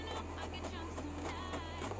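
An inkjet printer feeds and prints a cover page in two-sided printing mode, giving a steady low mechanical drone with faint rhythmic clicking, fairly close and unbroken, no voices.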